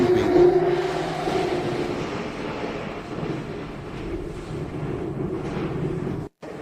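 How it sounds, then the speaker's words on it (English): Loud, steady rumble of an old Moscow subway train in motion, with rattling and roaring noise filling the car, no talking. "This subway is very noisy,"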